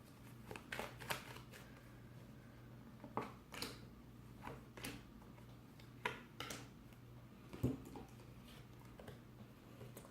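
Tarot cards being shuffled and handled during a reading, giving soft irregular riffling and snapping bursts in scattered clusters, fairly close and quiet with no talking.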